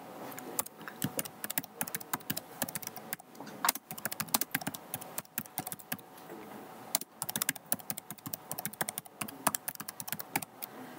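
Rapid, close typing on a computer keyboard while entering data into an Excel spreadsheet, a dense run of crisp key clicks with short pauses and no voice over it.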